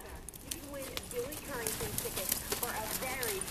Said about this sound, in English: everybody jog your horse, please